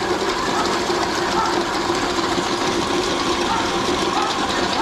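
A meat grinder grinds bones steadily, a dense, rattling mechanical drone from an underpowered machine, running without pause throughout at a constant level.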